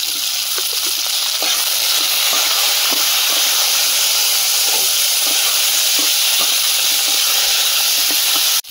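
Okra frying in a pan with chopped onion, making a loud, constant sizzling hiss with small crackles and spatters throughout, close up, with no talking.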